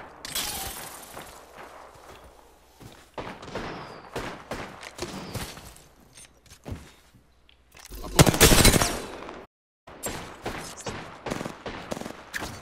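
Video game gunfire in rapid bursts and single sharp shots, loud and close with short gaps between volleys, and a heavier blast near the middle.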